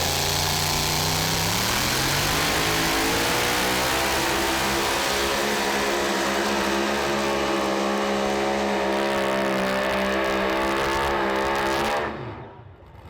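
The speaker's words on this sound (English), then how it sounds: "And another one that sounded really sweet, and consequently we have another truck out over the 300-foot mark." A Super Modified two-wheel-drive pulling truck's engine screams at sustained high revs during a pull, loud and close with rising and shifting harmonic pitch, then cuts off abruptly near the end.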